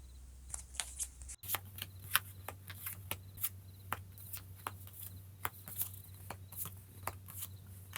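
Tarot cards are shuffled by hand at close range in a rapid run of crisp riffles and soft slaps over a low steady hum, with no voices.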